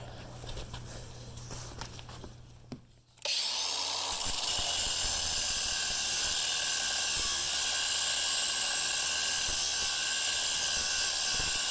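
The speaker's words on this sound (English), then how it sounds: "These screws are kind of big, so I'm using a grinder." An angle grinder cuts into a large one-way screw: a loud, steady, high-pitched grinding whine starts abruptly after about three seconds of quieter handling and holds unbroken to the end, with no talking.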